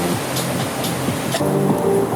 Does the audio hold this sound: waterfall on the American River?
yes